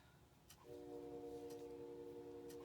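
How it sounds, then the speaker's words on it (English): A train horn blares from a distance, a steady multi-tone chord that starts abruptly and holds for about two seconds over low background noise. "Oh my gosh, do you hear that? It's a train."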